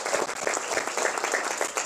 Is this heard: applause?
yes